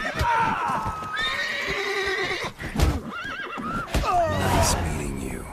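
A horse in The Witcher 3 video game whinnies loudly and repeatedly, with clip-clopping hooves and game voices talking over it.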